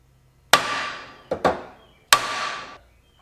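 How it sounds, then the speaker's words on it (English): Three sharp hammer strikes crimp a lead weight on an anvil while rigging a decoy, the second a quick double hit, each ringing briefly and fading, loud and close with no voices. "come over to your anvil and hammer it down again"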